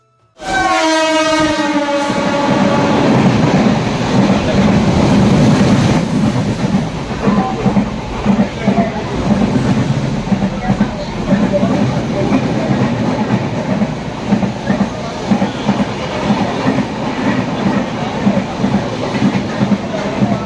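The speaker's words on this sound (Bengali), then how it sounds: "ট্রেনটা দাঁড়িয়ে আছে। তো এখন আমরা ট্রেনে উঠে পড়বো।" A train at Ramnagar railway station gives a long loud horn blast, then its wagons roll past with steady clattering and rumbling that fills the rest of the scene, close and continuous.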